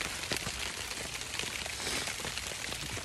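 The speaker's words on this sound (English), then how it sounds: "As you can hear, the rain's still picking up." Soft, steady rain patters on a tent nearby, a dense hiss of drops with scattered taps, faint and continuous.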